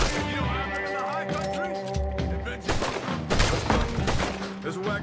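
Gunfire in Red Dead Redemption 2 video game: sustained volleys of shots under a continuous bed of game audio, with a voice speaking over the fight and a heavier burst of firing in the second half.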